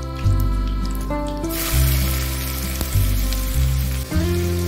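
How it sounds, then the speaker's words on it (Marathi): Chopped onion dropped into hot spice-tempering oil with cumin and whole spices for dhaba-style palak chicken, crackling in a steady close sizzle, with background tonal music running throughout. "त्याचबरोबर आपण कांदा पण फोडणी टाकूया"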